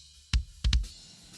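A kick drum miked from inside the shell strikes three times, a short punchy thud with a sharp clicky attack, the second and third hits close together, recorded dry and alone.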